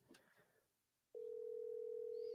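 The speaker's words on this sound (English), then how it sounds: "God, I hope Taylor doesn't answer the phone with something inappropriate." A steady telephone tone starts abruptly about halfway through and holds at an even pitch to the end, loud and alone, after a brief stretch of faint background noise.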